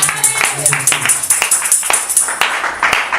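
Church congregation clapping for Jesus during worship, rhythmic applause repeating steadily under loud talking and sustained background sound, close and full.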